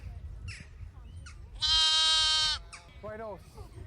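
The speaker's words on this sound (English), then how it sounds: "After the sheepdog Holly does her thing, corralling sheep by running in semicircles around them" Sheep on a farm on the Killary Fjord in western Ireland let out a loud, close bleat followed by a few fainter calls, with a voice talking over the rest.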